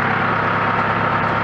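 A tractor engine revs lightly just after starting, a loud, steady low-to-mid mechanical drone with a rhythmic throb, close by and uninterrupted.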